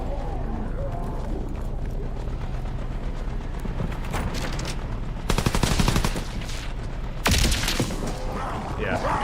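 Rapid machine pistol fire in a video game, dense crackling bursts of automatic shots, the loudest rattling around the middle and near the end, over ongoing game noise and a player talking.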